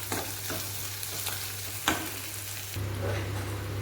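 Prawns frying in a pan for a Telugu amaranth-leaf and prawn curry, with turmeric, ginger and garlic: a steady close sizzle throughout, broken by a few sharp clacks of stirring, with no talking.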